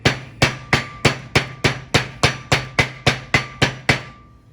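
A hammer taps lightly around a wheel bearing seal on a 1973 Mach 1's right front wheel, fourteen evenly spaced metallic strikes with short ringing decays, close and steady, no talking.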